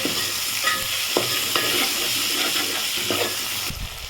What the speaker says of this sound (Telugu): వేగిన తర్వాత టమాటో క్యారెట్ వేసేద్దాం ఇప్పుడు టమాటో క్యారెట్ ఇప్పుడు మళ్ళీ ఇంకోసారి కలిపేసుకుందాం